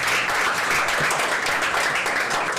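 Audience applause at a French-language reading contest, a steady, dense wash of clapping from many hands that holds at an even level throughout without a break.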